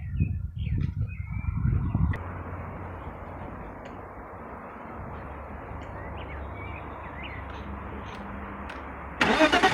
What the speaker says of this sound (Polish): Odpalimy silnik.